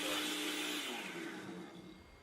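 A blender running on its liquefy setting whirs steadily at close range and gradually fades and softens toward the end, with no talking over it.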